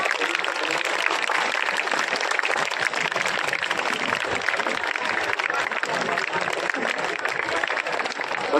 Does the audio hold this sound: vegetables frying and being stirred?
no